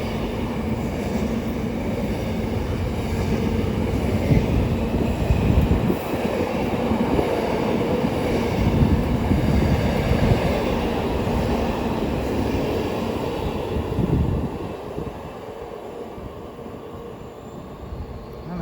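A pair of Avanti West Coast trains on a Holyhead to London Euston service roll slowly through Watford Junction on the West Coast Main Line, a steady close rumble with wheel noise that eases off toward the end.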